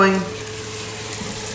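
Spices and onions toasting in a hot pan for Parsi shrimp patia, with a loud initial tone fading into a steady, close frying hiss.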